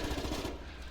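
Gunfire and battle noise in the war game Foxhole: rapid machine-gun bursts rattling loudly, then thinning out abruptly about halfway through one brief second.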